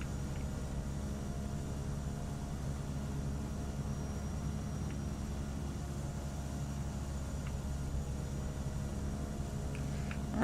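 A Cessna 208 Caravan rolls out after landing in Microsoft Flight Simulator X, a quiet, steady turboprop drone and wind-like rumble with a faint high whine and a few soft clicks.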